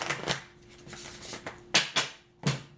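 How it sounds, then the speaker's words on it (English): Tarot cards being shuffled in a few crisp riffling bursts, close and fairly quiet, with soft rustling between the sharper snaps. "Shuffle one more time."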